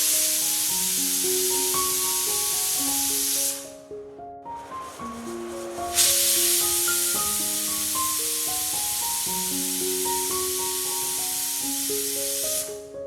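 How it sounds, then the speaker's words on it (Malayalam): Grated coconut fries in a tablespoon of oil with a continuous bright sizzling hiss, mostly beneath a melodic tune that runs throughout, with a brief dip partway. "ടേബിൾ സ്പൂൺ എണ്ണയൊഴിച്ച് ചിരകിയ തേങ്ങ വറുത്തെടുക്കുക."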